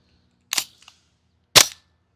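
An affordable airsoft gas blowback rifle fires two sharp, snappy shots about a second apart, each a crisp crack with a short mechanical clack of the bolt, close up against near silence.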